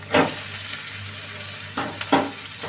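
Okra tipped into a hot pan with salt and turmeric, giving a soft continuous frying hiss broken by a few scraping stirs of a spoon, close, with no speech.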